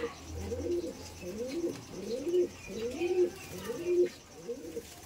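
Madrasi pigeons coo in repeated rolling phrases, close and clear, with a few faint chirps and light background noise between the calls.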